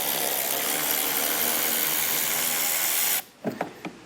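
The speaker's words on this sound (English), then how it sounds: "To remove our screw, we're going to need a 7mm socket again." A 7mm socket backs out a screw while fitting a Curt Class III trailer hitch to a 2024 GMC Acadia, a steady close whirring rasp for about three seconds, then a quiet pause and a few short knocks and clicks.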